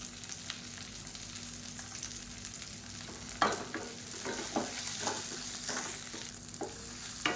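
Whole shallots, garlic and a bunch of curry leaves sauté in a pan with a continuous sizzle and several sharp stirring scrapes, close up with no talking.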